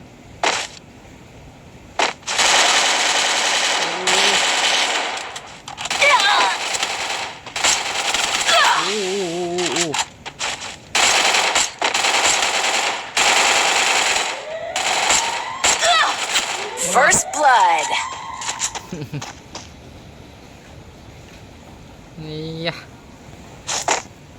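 Gunfire from the mobile shooting game Free Fire comes in repeated bursts and rapid single shots, loud and sharp. Talk and other game effects run between and over the shots.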